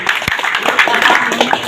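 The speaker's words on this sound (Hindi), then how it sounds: "तालियां बजा दो।" Crowd clapping at an outdoor village political gathering in Haryana, loud and close with scattered individual claps over a murmuring crowd, and a voice briefly audible in the mix.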